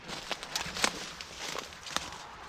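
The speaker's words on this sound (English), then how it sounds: "So this, I'm going to walk down here." Footsteps head down a slope toward an abandoned wood log cottage by a river, crunching one after another in an uneven rhythm, close and moderately loud, with no speech over them.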